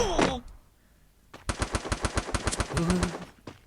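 Automatic gunfire in the game Free Fire, a quick rapid burst of about a dozen evenly spaced shots, close and loud, following a brief sharp sound and a short quiet pause.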